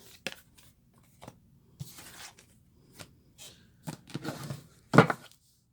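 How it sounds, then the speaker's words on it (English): A deck of tarot cards is shuffled by hand in short, irregular bursts of riffling and slapping, close and fairly quiet, separated by brief silences. "We're just going to give these a little shuffle."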